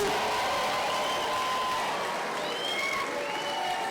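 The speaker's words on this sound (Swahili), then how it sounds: "Nataka tusimame na tumpigie makofi" A crowd at a Kenyan political rally for Raila Odinga breaks into sustained applause, dense steady clapping with scattered cheers and a few whistles, loud and continuous throughout.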